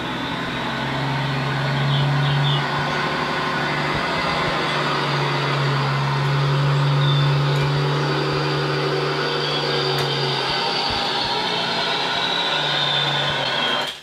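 Continuous low truck engine drone with a steady hum and faint higher whine, holding at an even level throughout with no voices.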